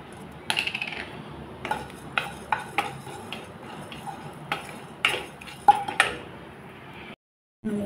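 Cumin and coriander seeds are dry-frying in a pan for a dal puri filling, with a spoon scraping and clinking against the metal in irregular bursts and only a faint sizzle underneath, no voices.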